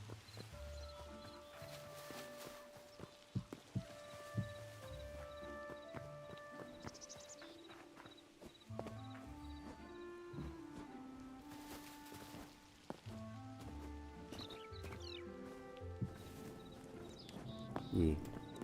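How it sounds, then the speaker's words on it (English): Horse hooves clip-clop in a Hytale game scene, light rhythmic steps that come and go at moderate volume, mixed with game music tones and a neigh. "Horsey, are you ready to go on an adventure?"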